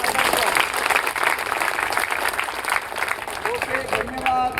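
An audience at a public gathering in Nashik breaks into sustained applause to welcome someone, a dense, even clapping that carries on for several seconds.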